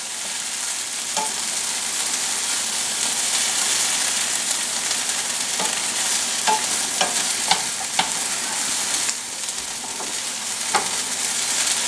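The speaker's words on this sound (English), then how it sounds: "You want to saute it until it's a golden brown." Hot Italian stuffing sautés in a pan with a steady, close sizzle and hiss, while a utensil stirs it with occasional scraping clicks.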